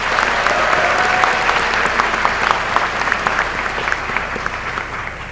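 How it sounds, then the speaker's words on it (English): Audience at a high school graduation ceremony breaking into a loud, steady round of applause, dense clapping from a large crowd that holds throughout and tapers slightly toward the end. "Can we please give them another round of applause?"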